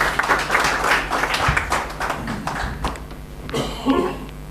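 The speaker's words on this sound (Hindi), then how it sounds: "आप लोग ज़ोरदार तालियां बजाएं" Applause from an audience at a mushaira, an Urdu poetry gathering held in an auditorium, heard as loud uneven clapping with distinct individual hand claps standing out against a low hum.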